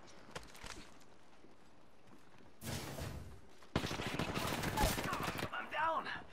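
Gunfire rattles in the Apex Legends video game: a few faint early shots, then a dense burst of rapid automatic fire and a longer sustained volley, loud and close, with game sounds around it.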